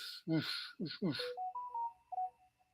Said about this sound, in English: There's those notifications again, Ciaran.